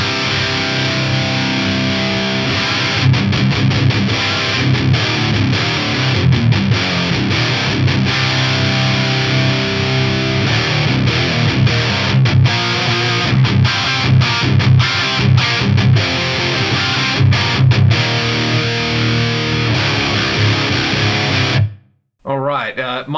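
A heavily distorted electric guitar plays through a Rectifier-style amp with a Recto tone, thick and loud in a steady run of chugging riffs and sustained chords, cutting out briefly near the end.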